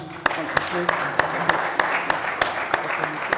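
Scattered, sparse applause from a panel audience at the close of an energy-themed discussion, with about a dozen distinct claps spaced irregularly over steady background room noise, fairly close.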